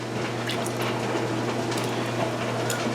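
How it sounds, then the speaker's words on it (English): A steady low hum with a busy, soft bubbling and simmering texture underneath, like a pot boiling away nearby, from a canning pot of water, with no talking. "You might be able to hear my canner bubbling away in the background there."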